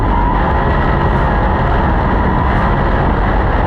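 Sprint cars race on a dirt track, and the engine roar is loud and continuous. It holds a dense, steady drone with no pauses for the whole stretch.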